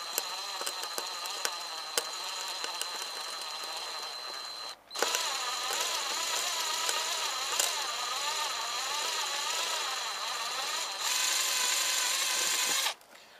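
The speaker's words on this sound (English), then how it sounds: "now we'll just change the drill bit over and open the hole out to the size of the LEDs" A small power drill widens a hole in a pair of glasses to fit LEDs, whirring steadily at close range, pausing briefly partway through before spinning up again and running continuously.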